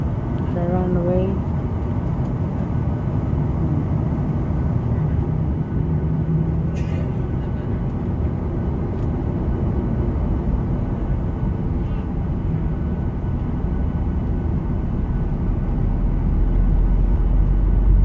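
Airplane engines rumble steadily on a runway before takeoff, a loud continuous low drone throughout, with faint voices and a brief higher tone early on.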